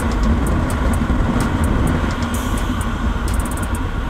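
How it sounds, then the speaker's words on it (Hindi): Heavy midday city traffic heard from a rider on a Royal Enfield Himalayan BS6 motorcycle, a loud continuous engine and road roar with steady wind noise and faint intermittent ticking above it. "दिन के 12:30 बजे भी काफ़ी ट्रैफिक है।"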